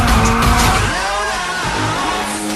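Nissan S13 drifting around a pole in Need for Speed Shift 2, loud close tire squeal and engine roar under throttle, the screech sliding in pitch as the car holds the slide.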